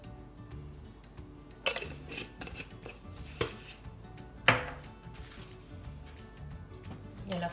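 Salt goes into an Aroma Professional Plus rice cooker and the lid is closed, giving a few close metallic clinks and knocks at irregular intervals, one louder clunk among them, over quiet background noise.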